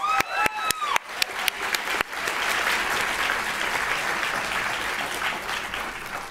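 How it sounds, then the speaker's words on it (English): An audience at a medical school Match Day ceremony claps, starting with a few sharp, separate claps that quickly swell into steady, full applause filling the room. "So a big round of applause."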